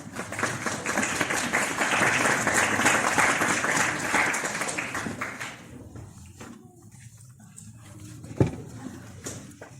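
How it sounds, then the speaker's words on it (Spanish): An audience at a presentation gives loud, dense applause that holds for about five seconds, then thins to scattered claps and quiet room noise with a single sharp knock near the end. "Fuertes palmas, por favor."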